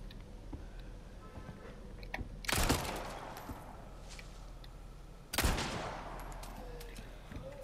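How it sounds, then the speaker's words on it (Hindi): Two gunshots in the video game Resident Evil 4 Remake, a few seconds apart, each a loud, sharp blast with a brief tail, over a quiet, steady game ambience. "दो गोलियां बर्बाद।"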